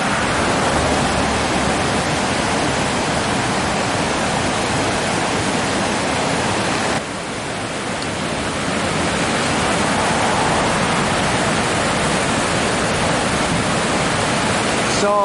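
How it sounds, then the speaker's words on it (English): A small channel of water pouring over a dry riverbed rushes as a steady, dense, loud wash of broadband noise throughout, unbroken and with no voices. "There's a little channel that comes over there of water."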